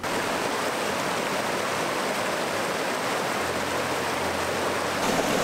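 Water rushing over cascades on a river in light rain, a loud, steady, continuous roar of flowing water close by, with no voices.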